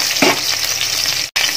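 Ginger, garlic and green chili sautéing in hot oil, a loud, dense crackling sizzle with a quick stirring scrape near the start, close, broken by a brief cut near the end.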